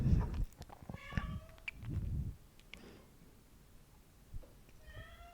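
A cat gives a few short meows amid some clattering and rustling, ending with a clearer, higher meow.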